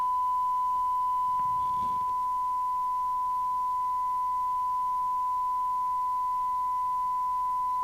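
A steady, pure test tone runs continuously during alignment of an Audioline PT345 CB27/81 UK FM CB radio base station, holding level throughout, with a brief faint rustle of handling noise near the start.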